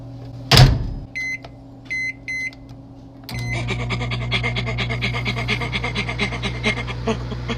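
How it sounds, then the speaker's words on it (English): A door thump and a short series of beeps, then a video-game microwave oven starts and runs with a steady mechanical hum and faint rattling. "It works like a normal microwave. Just punch in the time and it'll take care of the rest."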